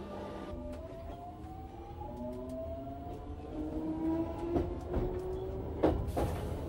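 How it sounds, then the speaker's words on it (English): London Underground Jubilee line 1996 stock train running, a rising and falling electric traction whine gliding upward in steady tones over constant rumble, with a few clunks and a louder knock near the end. "Our Jubilee line train is of 1996 stock, similar to those on the Northern line."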